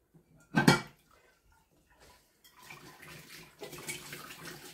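Dishes and plates being washed at a sink: a brief clatter of crockery, then the quieter rush of running water with light clinks, close and fairly soft, with no talking.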